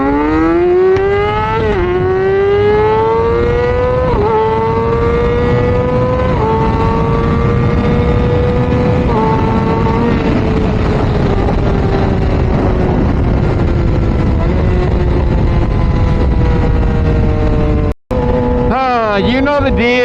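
Kawasaki ZX6R sport bike with an aftermarket exhaust revs hard and climbs through several quick gear changes, its loud, close engine note rising and dropping at each shift, with a brief cut-out before it revs up again.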